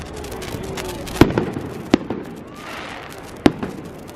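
Bonfire Night fireworks explode over the River Mersey in Liverpool, three sharp loud bangs spaced irregularly with crackling in between over crowd ambience.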